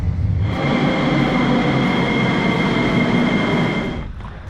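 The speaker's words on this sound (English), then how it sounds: "Sofia is the only city in Bulgaria to have a metro." A Sofia metro train rolls along with a loud, steady rumble and a high sustained whine, wheel noise running continuously before easing slightly near the end.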